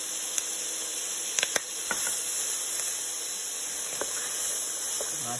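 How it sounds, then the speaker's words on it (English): Garlic sautéing in a hot pan gives a steady, even sizzle and hiss throughout, broken by a few faint pops and light stirring clicks, with no talking. "Let this saute."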